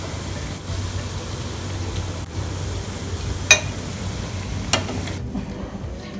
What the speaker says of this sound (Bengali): নুডলস পাকোড়া ভাজা হয়ে গিয়েছে। এবার আমি নামিয়ে ফেলবো।